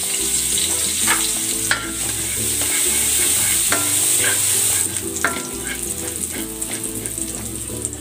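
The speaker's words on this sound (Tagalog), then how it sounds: "Igigisa ko na tong bawang." Garlic sautés in cooking oil for pork sinigang, a loud constant sizzle with a steady rhythmic clicking and scraping of stirring underneath, close up and free of talk.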